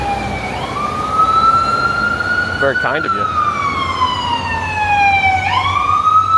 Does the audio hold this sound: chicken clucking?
no